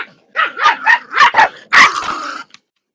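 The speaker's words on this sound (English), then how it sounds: "I do not know what is wrong with my dogs today." Dogs bark and yip in short, loud bursts close by, with whimpering and growling mixed in as they scuffle indoors, then a longer harsh snarl before falling quiet.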